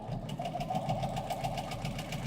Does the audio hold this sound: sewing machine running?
yes